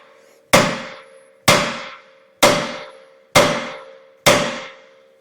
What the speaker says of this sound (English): That way I can swing that hammer in here at a different angle.